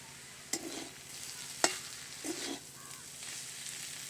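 Chowmein is stirred in a pan after a pinch of salt goes in, with a soft fry under a few distinct scraping strokes and sharp clinks of the utensil against the pan.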